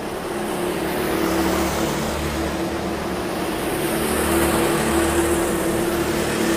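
Race cars engine drone steadily through a stadium circuit race, a continuous loud roar with sustained pitch shifts as cars run close together, no voices over it.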